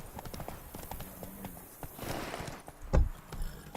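Horse hooves in the video game The Witcher 3 give a steady, close clip-clop of walking steps over faint background game ambience.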